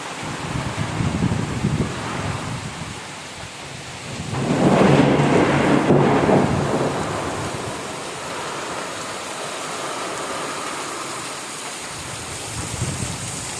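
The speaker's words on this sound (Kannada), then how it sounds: "ಇಷ್ಟು ದೊಡ್ಡ ಮಳೆ ಬೀಳತ್ತೆ ಅಂತ ಅಂದ್ಕೊಂಡೇ ಇರಲಿಲ್ಲ ಗುರು" Heavy first rain of the year pours down with hail, a dense steady roar of water broken by a loud rolling thunderclap that swells midway and slowly fades back into the downpour.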